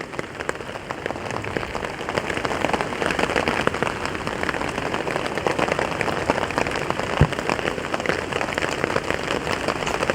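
Steady rain falls on a campsite at night, a dense, continuous patter of drops on tent and surfaces, with one brief sharp knock partway through and no talking.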